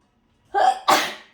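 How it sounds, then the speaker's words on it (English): A single close sneeze during glass painting, a short sharp intake followed by a burst of breath, in an otherwise quiet room. "I guess it's the smell that's making me sneeze a little bit."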